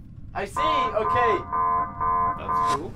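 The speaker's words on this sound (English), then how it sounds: "Oh, it's an alarm." An alarm aboard a submarine in the VR game IronWolf VR sounds as a repeating, harmonic electronic tone in several steady bursts, with people talking over it.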